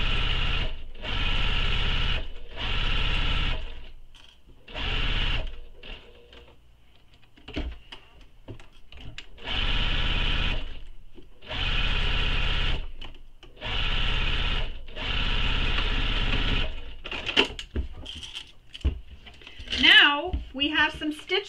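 A home sewing machine stitches the bottom of a tote bag pocket at construction stitch length, running in several separate bursts of a few seconds each with short pauses between, close and fairly loud.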